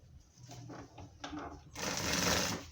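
A sewing machine stitches over an existing seam while attaching a pocket lining to a jacket, running in short bursts before a louder, steadier run near the end, with no talk.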